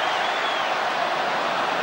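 A football stadium crowd at a France versus England friendly roaring in a steady, broad wash of cheering that holds at an even level throughout, with no distinct voices standing out.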